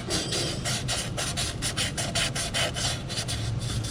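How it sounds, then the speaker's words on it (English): Sandpaper scrapes rhythmically back and forth across a hard metal surface on a 2014 VW Jetta 2.0L engine, close and steady, a rough rasping stroke repeating about every quarter second. "The hardest part is just sanding all the way around because the angle's really awkward."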